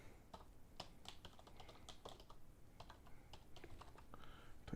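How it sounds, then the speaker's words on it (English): Very quiet, steady clatter of fingers typing on a computer keyboard, with irregular bursts of soft key clicks over a low background hiss and no voices. "Enter in your text like so"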